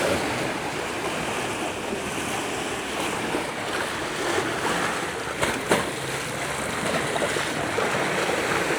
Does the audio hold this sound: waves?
yes